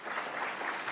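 Audience applause at a benefit connoisseur's dinner, a full, steady burst of many hands clapping together with no gaps, loud and close for the whole second.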